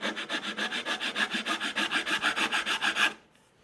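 A hand file rasps across a wooden guitar fretboard as it is notched, making about twenty even back-and-forth strokes in a quick steady rhythm, close and clear, before stopping abruptly.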